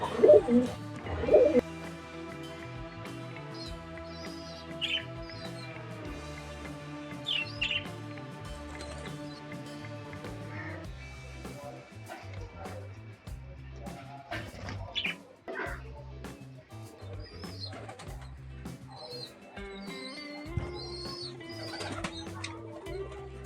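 Pet budgerigars kept indoors give scattered high chirps and tweets over steady tonal background sound, the calls light and intermittent throughout.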